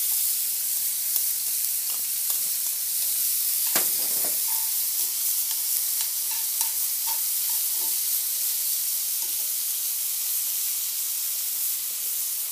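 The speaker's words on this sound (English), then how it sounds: "And we're going to saute this onion." Onion sautéing in a pan for braised short ribs, a steady bright sizzle and hiss throughout with a few light clicks and stirring taps, close and continuous.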